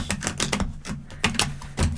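Tarot archetype cards being shuffled give quick, crisp flicking and snapping bursts in an uneven rhythm, close by and without speech.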